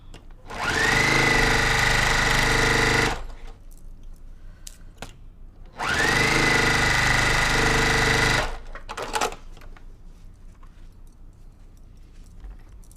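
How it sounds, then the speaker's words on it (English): Domestic sewing machine chain piecing quilt block pieces at top speed: two long steady runs of fast stitching, each about three seconds, close and loud, separated by quieter handling sounds. "I'm gonna stitch like I do at home. This is as fast as I go."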